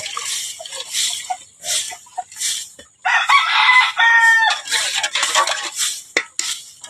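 Backyard chickens and chicks clucking and crowing at feeding time, with a rooster call among the flock, close and lively, along with light clinks of dishes or feed pans and no talk.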